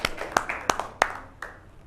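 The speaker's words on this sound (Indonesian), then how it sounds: "Silahkan tepuk tangan untuk kelompok yang kedua." A classroom of students gives a few scattered, fairly quiet claps for the second group, with isolated sharp hand claps spaced out and fading over a couple of seconds.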